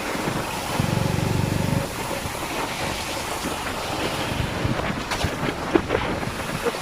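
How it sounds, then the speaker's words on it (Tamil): Strong wind buffets the microphone for the whole stretch beside a canal lined with palm trees, a steady roar with rumbling low gusts and no speech. "காற்று பயங்கர காற்று."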